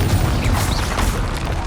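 A booming magical explosion from the Confringo fire spell in the video game Hogwarts Legacy, a dense, loud burst with rumbling low end and crackling debris that rolls on steadily without any voices.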